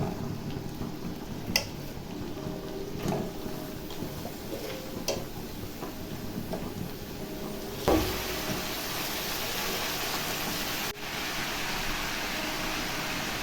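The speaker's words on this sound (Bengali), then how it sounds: "এইবার দিয়ে দেবো বাঁধাকপিটা।" Soaked cabbage dropped into a hot pan, giving a steady sizzle and frying hiss that grows louder partway through, with occasional light ticks and clicks from the pan.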